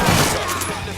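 A burst of gunfire in the Mafia 3 video game, a dense rapid volley of loud shots packed into one second, close and harsh with no talk over it.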